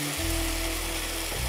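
Gravy sizzles and fries in a pan, a steady close crackling hiss with a low hum underneath, no talk over it.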